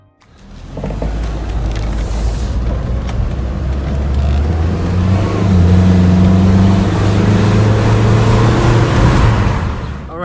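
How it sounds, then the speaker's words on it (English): Car with a leaking diverter valve driving and accelerating, its engine drone rising steadily with a faint whistling hiss on top, loud and close from inside, with no talk. "So it seems as if the diverter valve is still leaking."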